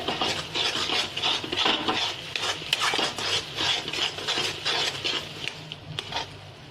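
Steady, rhythmic scraping and stirring of kozhukattai filling mixture in a pan, close and continuous with repeated strokes, no talking.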